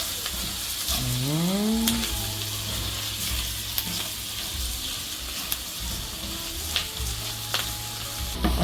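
Garlic and onion are sautéed over a high flame in a loud, close, continuous sizzle with scraping and stirring clatter, while a voice briefly speaks over it.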